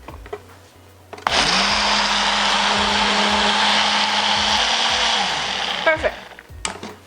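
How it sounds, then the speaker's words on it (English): A Ninja blender whirs loudly and steadily for about four seconds while blending a spicy watermelon sauce for Korean noodles, starting and stopping abruptly, with quiet kitchen handling sounds before and after. "Time for you to take your Ninja blender."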